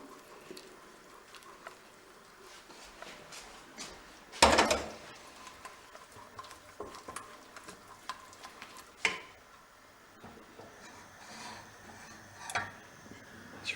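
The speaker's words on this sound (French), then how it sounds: "Maintenant, j'ajoute le lait tout doucement." Milk poured slowly into a liver cake batter while it is stirred, giving soft, steady liquid and scraping sounds close by, with one sharper clatter partway through and a few light knocks.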